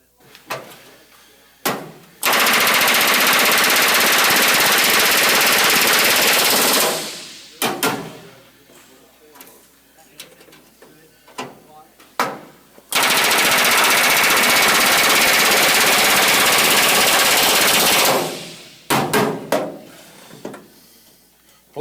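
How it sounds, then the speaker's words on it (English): A pneumatic rivet gun hammers a rivet into sheet metal in an aviation materials-and-processes shop class. It fires in two long, loud rattling bursts of about five seconds each, with scattered clanks and taps before, between and after. "It's a rivet. You're hammering it in, and what happens is it makes a shop head on the other side."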